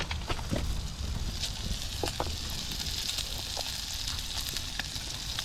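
Bacon sizzles in a pan on a camp stove at a wild camp beside Loch Awe in Scotland, a soft steady hiss with faint crackles, quiet and close.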